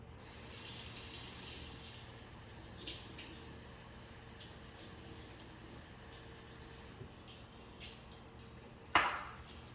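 A small splash of water poured onto flax seeds in a bowl to make a flax egg, a soft faint trickle in a quiet kitchen with a short knock near the end.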